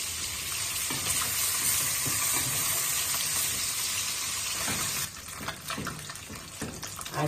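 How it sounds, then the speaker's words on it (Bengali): Fish fries in hot oil in a pan for fish kalia, giving a loud, steady sizzle throughout that eases slightly and turns more crackly near the end, with no talk. "মাছগুলো ভাজা হয়ে গেছে, উঠে নেব।"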